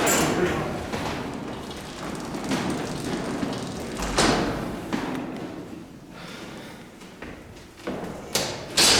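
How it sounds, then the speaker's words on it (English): Antique Otis traction freight elevator doors at the Seattle Center Armory are worked by hand, with several sliding rumbles and heavy thuds spread across the stretch, under people talking quietly nearby. "I'll let you operate the doors."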